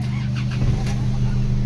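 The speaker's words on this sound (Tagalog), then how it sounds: "Engine start." A vehicle engine with a faulty instrument panel board starts up close by and settles into a steady low idle hum.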